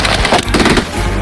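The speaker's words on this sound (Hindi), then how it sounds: "मैंने बस रैंडम पटाखे खरीदे थे, सोचा नहीं था इतना बवाल मच जाएगा।" Firecrackers burst in a video game, forming a dense, loud, rapid crackle of overlapping pops with no pause.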